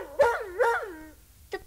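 In an audio drama, a voice imitates a dog's bark: two quick, close, moderately loud woofs, then a short pause and a brief third yip.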